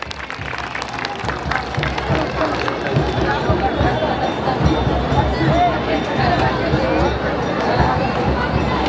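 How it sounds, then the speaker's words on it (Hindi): A Shiv Sena rally crowd applauding to welcome a district chief on his arrival, loud dense clapping and crowd noise sustained throughout, with a voice speaking over it through a loudspeaker. "जोरदार तालियों से स्वागत करें।"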